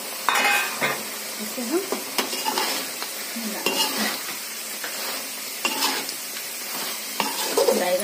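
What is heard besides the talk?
eggplant added to hot pan, sizzling and stirring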